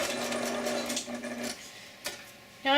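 A sewing machine back stitches on sleep shorts, a close whirring run of rapid needle strokes that pauses, restarts briefly, then surges again at the end, with no talk.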